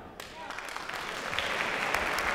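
Steady, dense clapping from a TEDx talk audience in Porto, building slightly in loudness, with a few voices mixed in underneath.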